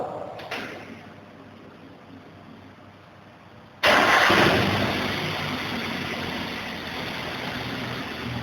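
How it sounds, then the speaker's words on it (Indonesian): A car engine cranks and catches partway through, following a quiet stretch with a faint click, then settles into a steady, loud idle that holds to the end; no one speaks. "Dan kalau sudah oke, kita starter."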